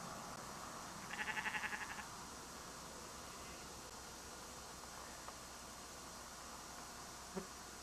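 Long-haired sheep give a single bleat, fairly distant and about a second long, over steady windy hiss in an outdoor field in London, followed by quiet with a faint click near the end.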